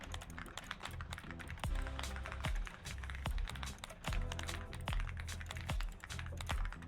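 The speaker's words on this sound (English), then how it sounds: "The sounds of this keyboard that you're hearing, that's my actual keyboard." Someone types fast on their own computer keyboard, a dense stream of crisp clacks with heavier thocks at intervals, close and steady for several seconds over faint background music, no talk.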